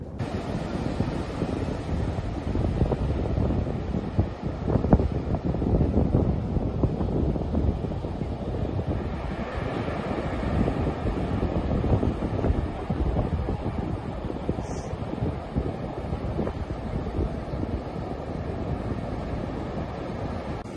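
Strong cold wind buffeting the microphone on Crescent Beach in Del Norte County, California, a constant roaring rush blended with the low wash of surf for the whole stretch.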